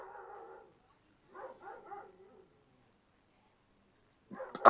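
A dog gives a few short barks, one brief burst at the start and a cluster of two or three a moment later, then a louder bark at the end, heard fairly close against an otherwise quiet room.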